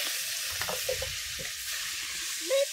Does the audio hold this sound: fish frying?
yes